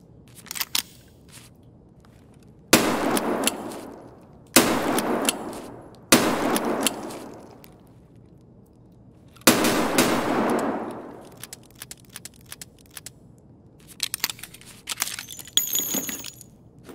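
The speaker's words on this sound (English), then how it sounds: "So this was the 357 caliber revolver." Revolver shots from a .357 caliber handgun in the video game Escape From Tarkov, four loud separate blasts with long ringing tails spaced a few seconds apart, and lighter handling clicks and rattles between and after them.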